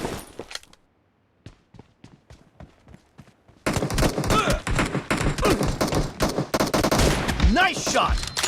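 Gunfire in the mobile battle royale game PUBG Mobile: a few sharp isolated shots over a quiet stretch, then dense rapid automatic bursts with thuds and clatter, loud and continuous to the end.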